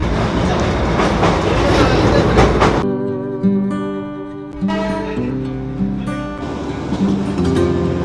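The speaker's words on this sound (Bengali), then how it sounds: "দেখো টয় ট্রেনের স্পিড দেখো" The Darjeeling toy train rolls along narrow-gauge rails through forest with a steady rumble and rhythmic clatter, joined partway through by tonal horn-like notes over continuous running noise.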